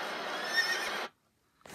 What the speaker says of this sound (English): Ooh, a horse.